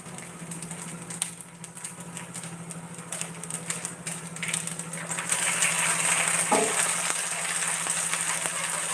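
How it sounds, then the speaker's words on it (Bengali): A masala dosa fries in oil with a continuous hissing sizzle that grows louder and brighter partway through. "মুড়ের পরে তেল দিয়ে একটু ভালো করে ভেজে নিতে হবে"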